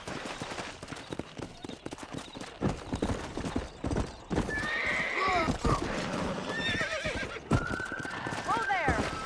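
A horse gallops with steady clip-clop hoofbeats and lets out several sharp neighs and whinnies while riding in the video game Red Dead Redemption, loud and close under a voice.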